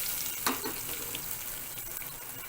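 A tempering of cumin seeds, curry leaves, green chillies and asafoetida is stirred in a pan over a low flame, making a soft, continuous sizzle with one brief scrape of the spoon near the start, faint and without voices.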